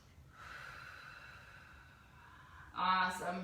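A slow, full breath taken during a seated Pilates stretch, soles of the feet together and leaning forward: a soft, airy inhale that swells and sustains, then a sharper, louder exhale near the end, close to the mic.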